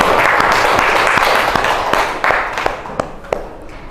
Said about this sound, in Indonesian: tepuk tangan untuk Gerald